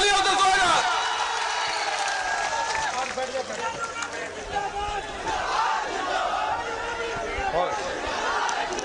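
A crowd at a political rally in Hasanpur roars to welcome Tejashwi Yadav, with loud, dense cheering, shouting and whooping that carries on throughout without a break.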